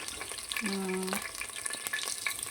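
Green chillies frying in a pan for chicken biryani crackle in a steady close sizzle, with a short tonal whine partway through and light stirring scrapes against the pan.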